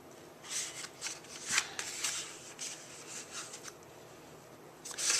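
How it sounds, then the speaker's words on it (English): Cardstock being folded in half and creased with a bone folder: a run of dry, papery rustles and scrapes coming in short bursts, close and fairly quiet, with no talking. "fold your cardstock in half"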